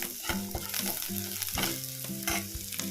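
Onions fry in a pan with turmeric powder for a koorka mezhukupuratti, giving a loud, close sizzle broken by repeated stirring scrapes and clicks.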